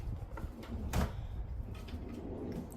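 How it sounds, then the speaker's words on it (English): A hidden drawer in a modern high-gloss kitchen cupboard slides open in one brief, fairly loud movement near the middle, over quiet room background with no talking. "You always have a secret drawer."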